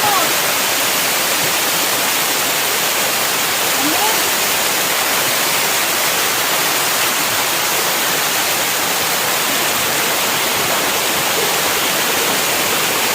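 Tinago Falls roars as a dense, unbroken rush of falling water, loud and close throughout with no pauses.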